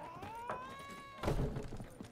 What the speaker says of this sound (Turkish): Kediye bak, az kapıyı açtı.